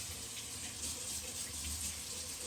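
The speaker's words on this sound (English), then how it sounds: "let me wash my hands again." A kitchen faucet runs steadily as hands are washed beneath it to rinse off sticky sugar while making cinnamon candy, a continuous close hiss of flowing water with no talk.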